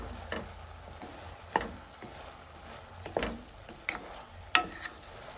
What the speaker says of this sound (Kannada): ಒಂದು ಸಲ ಮಿಕ್ಸ್ ಮಾಡ್ತಾ ಇದ್ದೇನೆ.